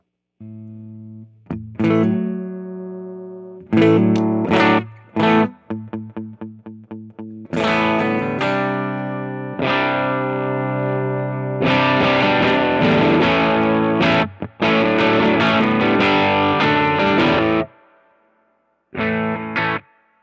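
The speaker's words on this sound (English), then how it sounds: "So this is all transistor distortion." Distorted electric guitar through a Grammatico GSG100 amp's transistor distortion plays loud, gritty chords and single notes, with sustained ringing passages separated by short pauses.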